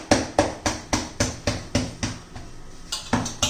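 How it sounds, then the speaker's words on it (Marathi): Bhakri flatbread dough for a fasting-day recipe is patted flat by hand on a floured surface, giving a steady series of about a dozen close, soft slaps at an even rhythm with a brief pause near the end. "आता खाली थोडंसं पीठ टाकून घ्यायचे आणि भाकरी थापून घ्यायची"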